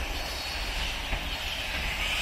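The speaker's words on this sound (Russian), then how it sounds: "поезд, везущий хворосту воз" A slow freight train loaded with coal rolls past in an autumn forest, giving a steady, even rumble and hiss without distinct clicks or a horn, fairly close and unbroken throughout.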